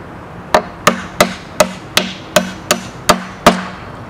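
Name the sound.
hammering nails out of barnwood held in a vise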